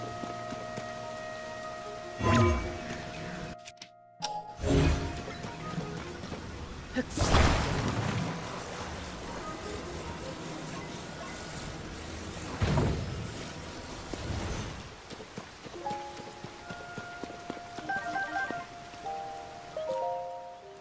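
Rain falls steadily in the video game Tears of the Kingdom, a constant wash under game sounds and a few louder bursts, with someone talking over it at times.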